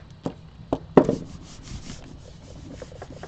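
Gel printing prints being burnished by hand rubbing on paper: a few sharp taps and scuffs, then soft repeated rubbing strokes, close and moderately quiet.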